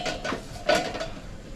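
Lid set down on a pan while cooking dosa at home, a few light metallic clinks and a short rattling clatter close by, with no talking.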